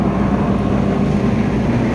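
A Massey combine harvester, just started after standing idle for a long time, idles with a loud, steady low engine rumble, close and unbroken, with no talking.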